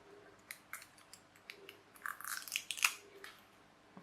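A package of self-amalgamating rubber tape is opened up close, with faint crinkles and rustles building into a brief burst of crackling plastic before settling back down.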